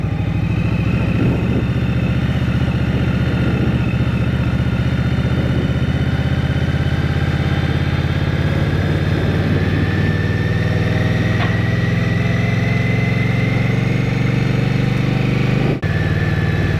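A 2023 Indian Scout Rogue's liquid-cooled engine runs steadily and fairly quietly, a smooth continuous hum with a low throb and a faint rising whine, close by with no talking.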